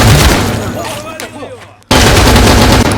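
Gunfire in the video game Escape from Tarkov: loud, close bursts of rapid shots with a decaying echo, briefly cut off, then resuming as dense, sustained firing.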